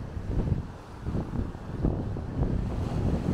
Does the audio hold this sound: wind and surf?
yes